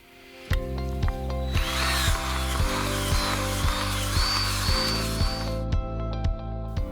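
A power drill auger digging into soil runs steadily at low speed with a rhythmic, repeating chug from about half a second in, loud and close, no voices.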